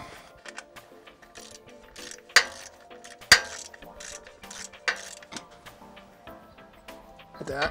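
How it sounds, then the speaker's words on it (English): Ratchet clicks in short bursts while tightening the transmission fill plug on a Jeep Wrangler, with a few sharper metallic clinks, fairly quiet and close. "what we'll do is we'll just now tighten this plug up."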